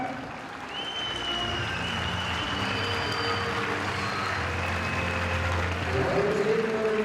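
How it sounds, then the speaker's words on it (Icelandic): A crowd applauding the horse Sigur frá Stóra Vatnsskarði, a moderate continuous patter of clapping with a low engine-like hum and some tonal sounds in the background. "Við skulum gefa honum gott klapp."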